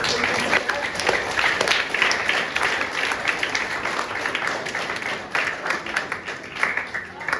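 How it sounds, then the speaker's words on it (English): Room of children and families applauding parents at a youth football pathway presentation, a continuous patter of many hands with some voices murmuring underneath. "give your mum and dads a big round of applause"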